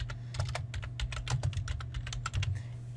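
Close, fast typing on a computer keyboard produces a rapid, uneven string of crisp key clicks over a low steady hum.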